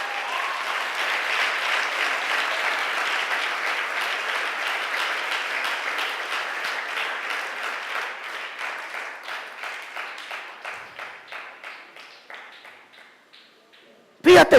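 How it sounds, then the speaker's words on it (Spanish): A church congregation applauding together, a dense steady burst of clapping that gradually thins into scattered, slower claps before a sudden loud sound at the very end. "Denle un aplauso al Señor, ¿no?"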